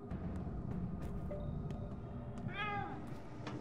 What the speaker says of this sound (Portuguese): Que miadinha do gato, hein?